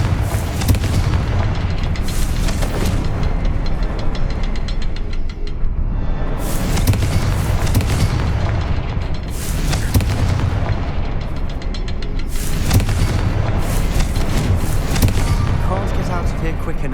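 Repeated booming blasts of Confringo fire spells in the Hogwarts Legacy video game, bursting in three or four loud waves over dense battle noise, with a voice talking over it.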